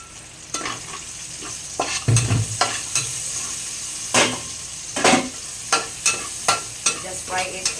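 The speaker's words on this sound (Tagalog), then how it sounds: "Just fry it also the onions and the garlic, guys." Onions and garlic fry in cooking oil in a pan, a soft sizzle beneath repeated sharp scrapes and stirs of a utensil against the pan, close and fairly loud.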